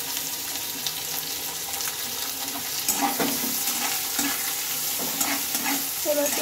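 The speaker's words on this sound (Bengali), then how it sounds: "এবার পেঁয়াজগুলোকে একটু ভেজে নেব।" Chopped onions sizzle steadily in hot oil in a pan with a dried red chilli and two cardamom pods, with scraping stirs in bursts near the end; no one speaks.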